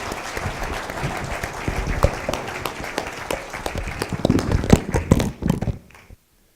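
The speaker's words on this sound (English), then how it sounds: "Please give a big round of applause." Audience applauding at the close of a panel discussion at a technology conference, a dense steady clatter of many hands that swells near the end and then cuts off abruptly.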